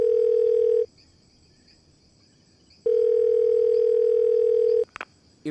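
Steady ringback tone of a mobile phone call on loudspeaker, two long unbroken tones separated by a couple of seconds of silence, clear and close, followed by a brief click.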